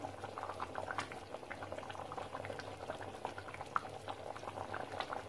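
A thick drumstick kuzhambu, a tamarind gravy, boils in a pot with a continuous soft bubbling and popping, fairly quiet and unbroken throughout.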